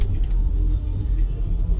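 A Jetour Dashing with a 1.5-litre turbocharged four-cylinder engine fires up and settles into a steady, close low rumble with no voices.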